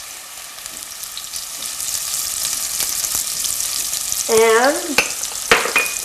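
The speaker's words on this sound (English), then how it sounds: "We're going to add some onion to this. And some multicolored bell peppers as well. And we're going to let these saute a little bit." Onion and multicolored bell peppers sautéing in a pan, a steady close sizzle with a brief spoken word near the end and a few clinks.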